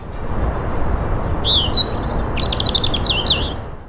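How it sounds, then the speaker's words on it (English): A female robin sings a series of clear, high, warbling phrases with rapid trills near the end, heard fairly close and alone over a steady low background hum. "And this is a song of a female robin."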